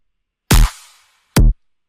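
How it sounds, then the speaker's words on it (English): Electronic kick drum sample designed in the Kick 2 plugin, one loud booming hit with a long noisy tail, then a second shorter dry thump, alone with no voices. "I'll put the correct kick in there."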